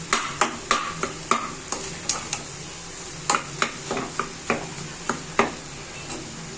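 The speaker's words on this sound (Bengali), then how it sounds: "এবার আমি খুন্তির সাহায্যে এগুলোকে এইভাবে ঘেঁটে দেব।" Boiled potatoes are mashed with a spatula in a pan, making a steady run of sharp scraping knocks against the pan at an uneven pace, close and fairly loud with no voices.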